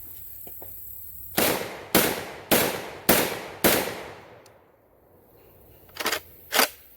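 A Tristar Compact 12 gauge bullpup shotgun fires five loud shots in quick, even succession, then after a short pause two more blasts ring out, with no talking.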